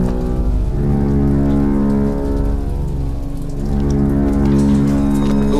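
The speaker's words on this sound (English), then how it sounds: "Look at the rain. Look at the pretty rain." Rain pouring in the game Bioshock Infinite, a constant loud hiss of drops striking surfaces with a low rumbling undertone and sustained musical tones beneath, heard alone without voices.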